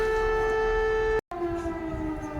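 A wailing air raid siren sounding across Poltava, a loud sustained tone that breaks off briefly and then resumes at a slightly lower pitch.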